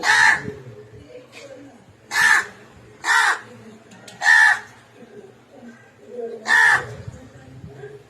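A crow caws loudly and nearby while being fed scraps like dosa, giving about six harsh separate calls at uneven intervals, with a person speaking quietly between them.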